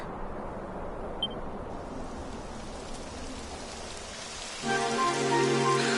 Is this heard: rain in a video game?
yes